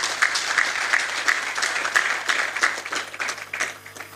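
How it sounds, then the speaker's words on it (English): Attendees at the Nigerian Mining Week conference applaud themselves, a sustained dense clapping from a hall audience over a low steady hum, fairly loud and close. "Please give yourselves a round of applause."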